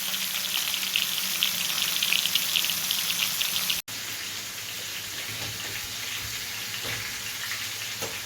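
Food fries in a pan at a home cookout in Zagreb, Croatia, with a loud, continuous close-up sizzle and crackle that briefly cuts out midway before resuming just as steadily.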